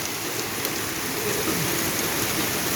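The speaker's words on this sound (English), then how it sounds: "It's a mix of rain and sleet." Heavy rain mixed with sleet pours down over an allotment plot, a dense, loud, continuous hiss of drops striking surfaces, with no speech.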